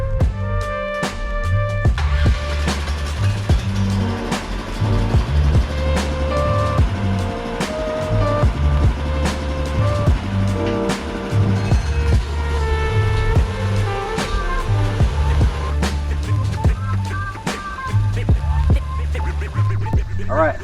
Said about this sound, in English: Let's fire this thing up and take it out for a test drive.